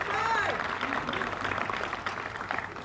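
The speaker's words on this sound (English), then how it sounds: "Let's give Adrian a round of applause as well." An audience at a school reopening event claps in steady, dense applause, close and sustained for a few seconds.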